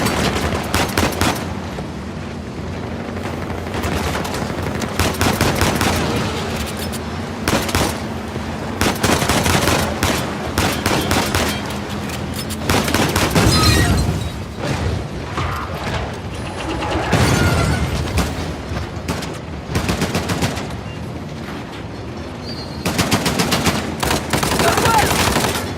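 Sustained gunfight in Uncharted: The Lost Legacy, with machine-gun bursts and single shots cracking loudly and continuously, mechanical clatter and occasional booms mixed in, and voices calling out now and then beneath the fire.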